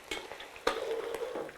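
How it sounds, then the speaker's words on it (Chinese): Shrimp sizzle and fry in hot oil in a wok while a utensil stirs and scrapes them, giving close, steady crackling with a few sharper clatters, and no one speaks. "给它煎出虾油哈才香"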